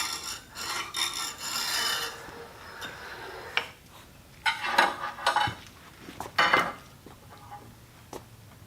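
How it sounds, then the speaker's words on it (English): A metal straightedge being hand scraped during setup and planing, giving a long rasping stretch, then several short, sharp scraping strokes with pauses between them, close and fairly quiet. "See, I'm scraping it there."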